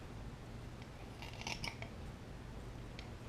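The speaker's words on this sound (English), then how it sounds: "these cubes, you trim off the edges" Scissors snip the edges off small 1.5-inch rockwool starter cubes for hydroponic cherry tomatoes, a few quiet, crisp cuts clustered in the middle against a faint background hum.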